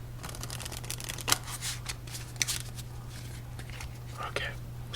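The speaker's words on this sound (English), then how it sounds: "So let's shuffle up our deck and move on to game" A deck of playing cards is shuffled close up during a quiet solitaire game, with soft riffling and several sharp card snaps over a steady low hum, while a voice whispers throughout.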